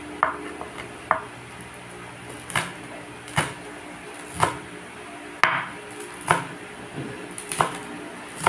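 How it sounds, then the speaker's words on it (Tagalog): Ginger being sliced with a knife, sharp separate knocks on a cutting board at roughly one-second intervals, close and distinct against a quiet background. "At nag-slice din ako ng kunting luya."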